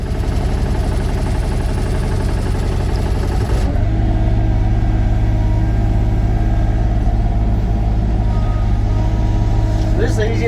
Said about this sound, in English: I'm going to kind of show you how I use my grading bar and my back blade and get this gravel cleaned up